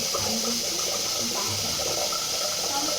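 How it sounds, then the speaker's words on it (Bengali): Rice is washed in water in a home kitchen, a loud, steady sloshing and splashing that fills the clip with a constant watery rush and no talking. "সবার প্রথমে চালটা ধুয়ে দেবো।"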